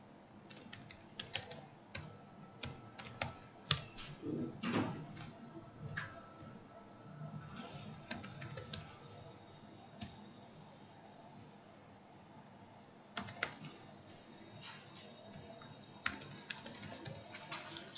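Computer keyboard typing while filling in an online store checkout form: steady runs of quiet, close keystroke clicks with short pauses between bursts, no talking.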